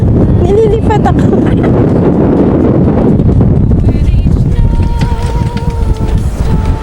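Strong wind roars across the exposed summit of Mt. Banoy, Batangas' highest peak at 960 meters, a loud, steady buffeting rush that fills the whole stretch without pause.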